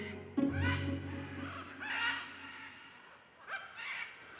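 Harsh, screechy parrot calls ring out in a few separate bursts at a sandstone nesting cliff in the Pantanal, fairly faint and somewhat distant, with quiet gaps between them.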